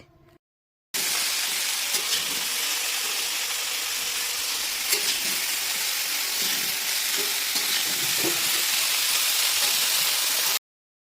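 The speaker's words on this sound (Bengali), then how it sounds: "আমাদের এই ফুলকপিটা দিয়ে জাস্ট আর কি 10 মিনিট মতন হাই ফ্লেমে কিন্তু ভাজা হয়ে গেছে" Cauliflower fries in a pan over a high flame, a loud, continuous close-up sizzle that holds steady for about ten seconds, with faint stirring scrapes underneath and no talking.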